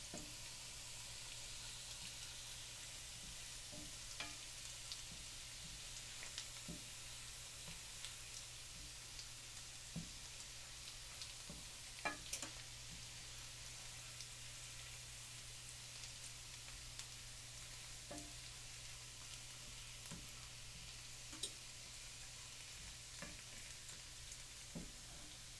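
Butter browning in a pan with sage leaves, a steady soft sizzle and crackle with occasional small pops and stirring clicks, close and quiet throughout, no voices.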